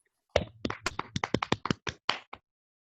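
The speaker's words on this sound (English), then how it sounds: "Let's clap for our discovery class." A short run of about a dozen close hand claps for a class during a virtual technology competition, uneven in rhythm and coming from only a few people.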